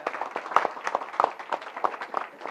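An audience at a Marathi community event applauds with a brisk burst of sharp, close handclaps spread across a small crowd.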